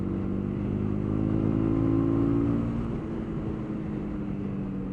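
A 2018 Honda CB300R motorcycle engine drones steadily while riding, a low continuous hum that swells slightly then eases, heard alone with no talk.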